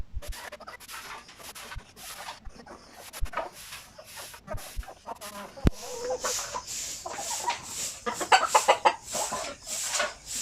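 RTL Basilan native chickens on a farm, clucking and squawking close by in a busy, overlapping flock chorus that grows louder and denser toward the end, with a few sharp knocks.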